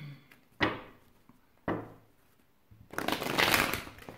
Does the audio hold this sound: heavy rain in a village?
no